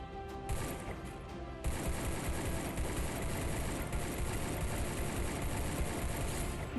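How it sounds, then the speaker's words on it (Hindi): Rapid gunfire from the battle royale video game Free Fire rattles in sustained automatic bursts, loud and dense throughout, with no talk. "अंधाधुंध फायरिंग"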